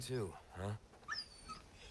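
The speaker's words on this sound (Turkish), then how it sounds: "Köpek sesi geliyor." A dog whimpers and whines in short high-pitched cries in Resident Evil 4 Remake, a few quick yelps spread across a couple of seconds, fairly quiet with faint background noise.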